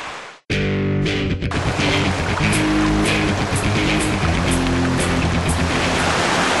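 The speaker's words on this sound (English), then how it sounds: "this is the first stream that we'll be crossing. It is a tributary of the San Gabriel River" A stream, a tributary of the San Gabriel River, rushes loudly and steadily after a brief pause, a dense continuous wash of flowing water close by.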